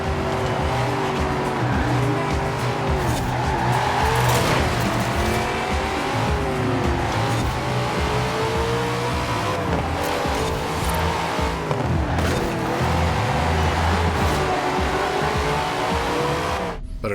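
Street racing cars in a video game on an Xbox Series X, with loud, sustained engine roar that rises and falls through gear changes, overlaid with repeated tire squeals and skids, no talking.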